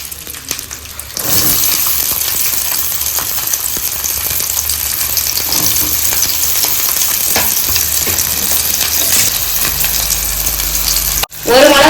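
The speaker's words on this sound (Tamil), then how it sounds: "எண்ணெய் நல்லா சூடாயிருச்சு நறுக்கி வச்சிருக்க வெங்காயத்தை போட்டுக்குவோம்" Loud, steady sizzling of chopped onions frying in hot oil for chicken curry, continuing without a break after a quieter start, with a brief clatter near the end.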